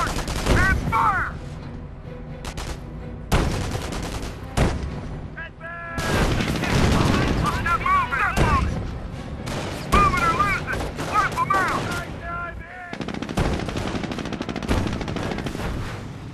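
Gunfire in the World War II strategy game Company of Heroes, with repeated bursts of rifle and machine-gun fire and occasional booms in irregular clusters, while soldiers shout over the battle.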